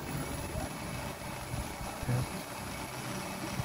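A 12V 600W geared motor driving a motorcycle sprocket runs at a steady, fairly loud hum with a low rumbling drone and no talk.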